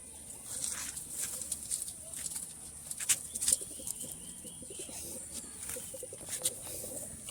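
Kaldoma Madras pigeons at a pigeon sale give faint low cooing and occasional wing flutters. A few sharp clicks and rustles rise over a steady hiss.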